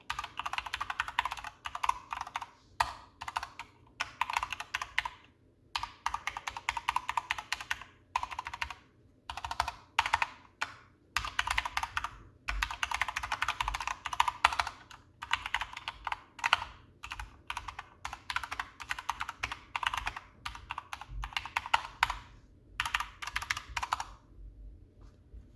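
Typing on a Corsair K65 RGB Mini mechanical keyboard with pre-lubed stabilizers, bursts of rapid close clacking keystrokes in bursts with brief pauses, heard alone.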